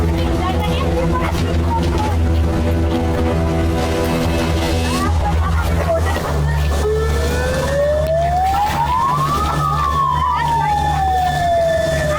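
A loud siren signals the start of a surfing competition heat, wailing and rising and falling in long sweeps over heavy engine rumble and traffic noise close by.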